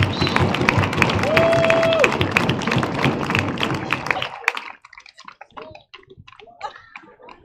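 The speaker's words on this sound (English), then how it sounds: "let's hear a big round of applause for senior trainer Caitlin Rogers" Crowd applauding at a Wyoming high school football game, Sheridan Broncs vs Natrona, for a senior trainer. A dense, steady wash of clapping runs for about four seconds and then falls away to scattered faint claps and quiet.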